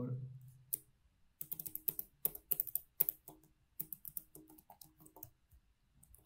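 Code being typed on a computer keyboard: quick bursts of close, crisp key clicks with short pauses between runs, after a brief low murmur at the start.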